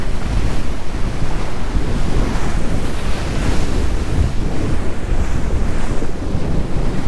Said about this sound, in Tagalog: Galit na galit yung mga alon